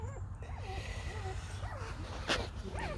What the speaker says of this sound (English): It could be Pace's puppy or it could be Brown's puppy.